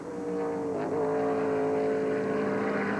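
Stock cars at a 1996 NASCAR All Pro shootout at Topeka roar in a loud, continuous pack drone, with engine pitch sliding as cars pass and no commentary audible.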